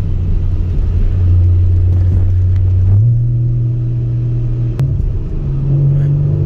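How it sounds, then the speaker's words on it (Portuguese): A Porsche engine roars loudly and up close in a steady, deep drone, its pitch stepping higher twice as the car accelerates hard, with faint voices in the background. "Olha a zoada do motor."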